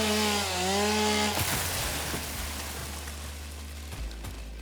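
A chainsaw in the Satisfactory video game cuts, a steady buzzing, broadband drone with a whining tonal start that gives way to continuous grinding noise, loud and close, no talking.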